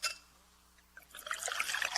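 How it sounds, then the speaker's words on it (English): Pepsi Zero Sugar cola pours with a soft trickle that builds into a busy, bubbly fizz as the glass fills, close up and with no voices. "Listen to that endless pour."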